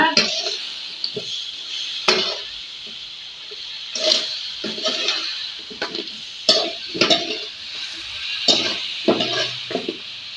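Large shrimp with chili and salt are stirred and tossed in a sizzling pan, giving repeated scraping clatters of a utensil against metal over a steady frying hiss, close by.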